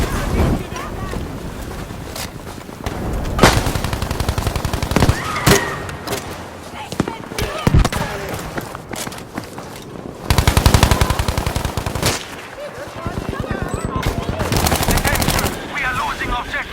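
Video game submachine gun fire from the M1928A1 and Suomi KP31, with rapid automatic bursts repeating in long and short strings over wind and background battle noise.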